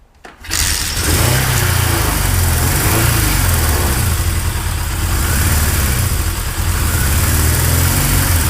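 A Suzuki GS550 flat tracker motorcycle, freshly rewired at the coil after sitting for a few years, cranks and catches after a brief pause, then holds a loud, close, steady idle with a throbbing low rumble.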